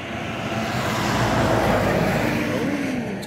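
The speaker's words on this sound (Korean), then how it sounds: "차 소리 때문에 그냥 분위기 다 망쳤어요." A car speeds past on a road beside a clear river on an autumn day, a steady broadband rush that swells toward the middle and fades slightly, heard up close with no talking.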